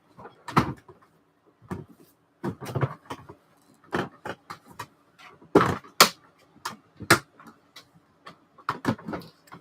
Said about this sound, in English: It should be in this drawer, but I don't know how deep in the drawer it is.